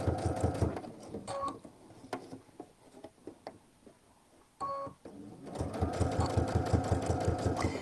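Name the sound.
sewing machine sewing with adjustable zipper foot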